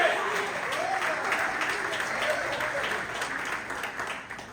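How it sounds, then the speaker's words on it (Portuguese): A congregation at an evening family church service breaks into steady, full-room applause that holds evenly throughout and eases off slightly at the end, with faint voices mixed in. "e aplaude ele."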